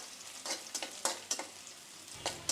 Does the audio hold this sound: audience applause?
no